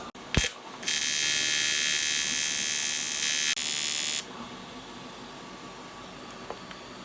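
Pulse welding on a fabricated oil drain tank for a Subaru EZ30R turbo swap into a Porsche: a loud, steady electric buzzing crackle holds for about three seconds after a brief click, then stops, leaving quiet shop noise.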